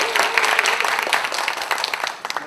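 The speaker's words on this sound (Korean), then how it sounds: "다시 한번 뜨거운 박수로 환영해주십니다." An audience at a Korean panel discussion applauds to welcome the speakers, with close, lively clapping that is dense at first and thins into scattered individual claps near the end.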